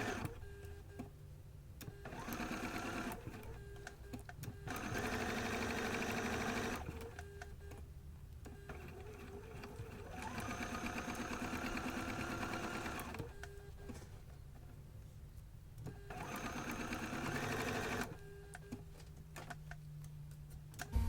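Stitching quilt pieces on a sewing machine comes in several bursts of rapid mechanical clatter. Quiet pauses separate each run of the motor, and everything sounds close.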